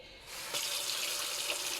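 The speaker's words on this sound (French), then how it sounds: "Donc j'ai fait couler mon robinet." Hot water runs from a tap, a close, steady rushing hiss that swells a moment after starting and keeps flowing to the end.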